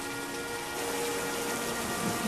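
Steady rain pours down in a dense, even hiss of drops that holds at a constant level throughout. No voices or other sounds come through it.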